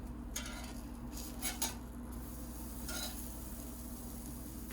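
A buttered burger bun toasts on a hot grill, giving a faint, low sizzle over a steady hum, with a few short scraping clinks from a utensil.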